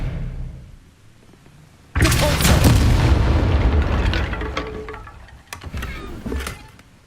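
Expelliarmus spell cast in the PS5 video game Hogwarts Legacy: after a quiet lead-in, a sudden loud booming blast erupts, rumbles and slowly fades, with a smaller second swell near the end. No talking.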